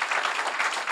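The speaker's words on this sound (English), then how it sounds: "Let's give him a round of applause." A brief burst of steady, full audience applause, continuous and even, at a theater district ceremony in Buffalo honoring a performer with a star.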